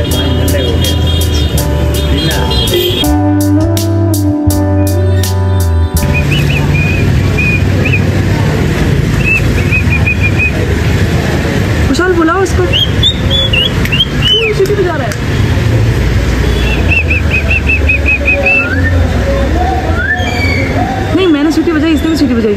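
A parrot whistles in short, rising and warbling calls amid loud traffic and vehicle noise outdoors near the tall Shiva statue in Nathdwara, with people talking throughout.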